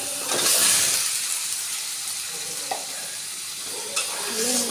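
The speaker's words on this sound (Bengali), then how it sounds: "এবার আমি ম্যারিনেট করা আলু মাংসটা এইটা দিয়ে দেবো।" Marinated potatoes and meat hit hot oil in a pan with a loud sizzle, then fry with a steady hiss under occasional scrapes and clinks from stirring, with no talk.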